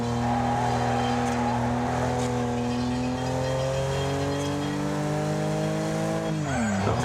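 Racing cars in the video game Wreckfest during an online race roar steadily with sustained engine tones that rise and shift, then drop sharply near the end as a car brakes into a corner, loud and continuous.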